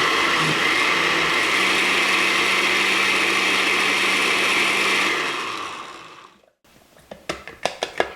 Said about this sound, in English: I'm gonna add a little more salt, blend it again